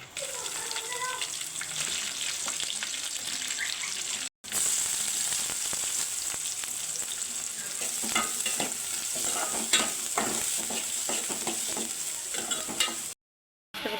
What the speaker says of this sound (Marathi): लसूण मिरची आणि कांदा टाकलेला आहे कांदा चांगला परतून घेऊ आपण